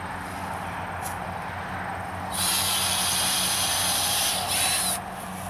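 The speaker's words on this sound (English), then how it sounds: "why is he drilling a hole?" A power drill whines loudly for a few seconds, drilling a hole in a fence post for high tensile wire, pausing briefly and starting again, over a steady low background rumble.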